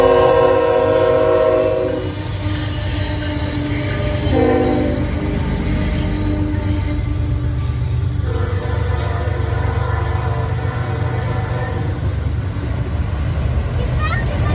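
Six-engine CSX freight train rumbling past, its horn blaring loud in long blasts near the start and again midway, with steady heavy rolling noise, wheel squeal and people talking throughout.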